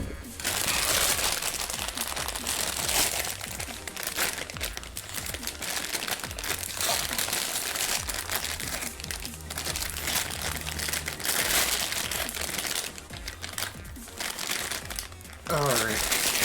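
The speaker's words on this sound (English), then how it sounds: "If the crinkling and stuff is too much, guys, I can move the mic back to where it was on Monday" Loud crinkling and rustling right at the microphone during home cooking, continuous and close, with a person talking over it throughout.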